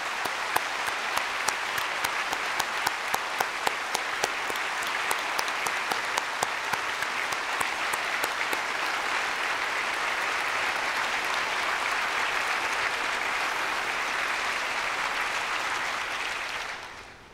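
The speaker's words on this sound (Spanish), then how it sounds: "Por favor, aplaudamos dando la bienvenida." Sustained, dense applause fills a church service from a large congregation, with distinct individual claps standing out early on before it settles into a steady roar and fades at the end.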